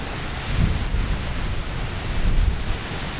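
Strong mountain wind roars in continuous gusts high in the Pyrenees near Pic Negre, buffeting the microphone with loud, broadband rushing noise and no speech.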